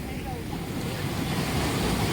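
Sea waves wash onto Kunkeshwar beach at Devgad in a continuous rushing surf with gusty wind buffeting the microphone. The sound builds slightly louder toward the end.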